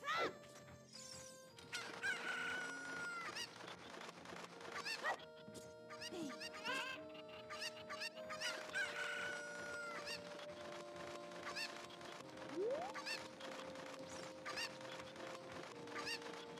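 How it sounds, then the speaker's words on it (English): Chickens clucking and a rooster crowing in the video game Legend of Zelda: Ocarina of Time, with repeated game-style bird calls, chimes and effect sounds layered over background music. "Actually need to borrow one of your chickens."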